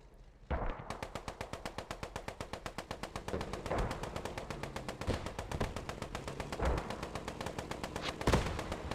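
Rapid, steady bursts of heavy gunfire in the Post Scriptum war game as an 88 gun fires at a Cromwell tank, loud and continuous with a few stronger blasts and no talk.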